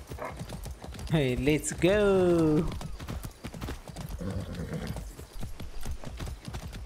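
A horse in the video game Far Cry 6 clops along with steady, rhythmic hoofbeats and gives a loud, wavering whinny near the start, while someone talks over the trotting.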